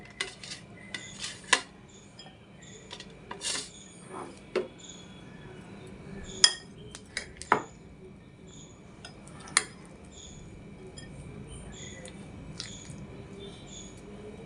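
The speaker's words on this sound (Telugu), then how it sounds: "ఇప్పుడు వీటిని ఈ పసట్లు వేసి కలిపేయటం" Sun-dried raw mango pieces for magaya pickle being tossed and mixed in a vessel with a spoon, giving scattered clinks and scrapes over a quiet background, with no talking.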